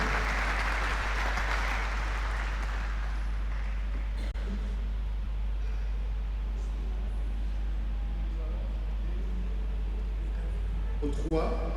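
A funeral church congregation claps and cheers in praise, a broad wash of applause that fades after a few seconds into murmuring, with a steady low hum underneath.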